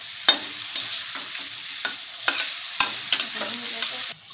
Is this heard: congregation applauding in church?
no